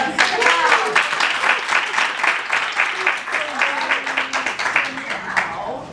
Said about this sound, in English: That's been a nice round of applause